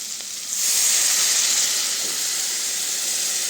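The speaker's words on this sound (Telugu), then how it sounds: "ఇప్పుడు నీళ్ళు వేద్దామండి." Water is poured into a hot pan of sizzling dried-anchovy and drumstick curry, setting off a sudden loud burst of steamy hiss that holds and slowly softens.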